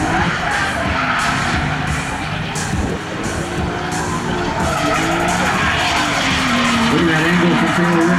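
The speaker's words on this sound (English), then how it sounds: "Mesker, have you ever seen your car drift like this?" A drift car skids through a corner in competition, tires squealing in a long sustained screech over a droning engine, heard from trackside, with an announcer talking over it.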